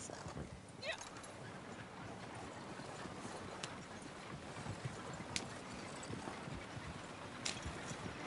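Horse hooves plodding through deep snow in the video game Red Dead Redemption 2 online, soft muffled steps that keep going at low level while someone talks over them.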